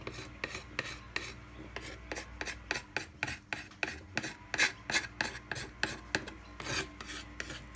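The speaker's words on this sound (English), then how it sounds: "You can go against the grain with a scraper." Hand scraper shaping a wooden hammer handle, working against the grain in a rapid series of sharp rasping strokes, roughly two or three per second, close and crisp with short gaps between.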